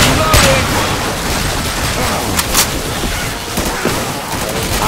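Rapid gunfire bursts from the Left 4 Dead 2 Welcome to Hell train station finale with twelve survivors on expert, crackling and booming continuously over a noisy battle, with shouted voices mixed in.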